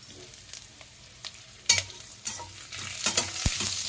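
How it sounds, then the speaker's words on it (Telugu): Onions fry in a pan for capsicum rice, sizzling steadily under repeated stirring scrapes and clinks of a utensil, with a sharp knock partway through. "ఆనియన్ గోల్డ్ బ్రౌన్ వచ్చే వరకు వేగాలండి ఉల్లిపాయ"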